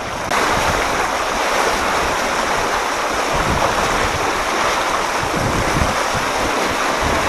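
Rushing floodwater during super typhoon Rolly in Albay roars as a dense, steady wash of noise with wind buffeting, loud and continuous with no talk.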